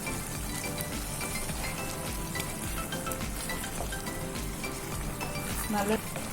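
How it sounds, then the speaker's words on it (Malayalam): Pepper chicken curry bubbles and simmers in a pan, a steady close hiss with soft popping and gurgling, continuous throughout with no voices. "ഇത് നല്ലോണം തിളച്ച് വന്നിട്ടുണ്ട്"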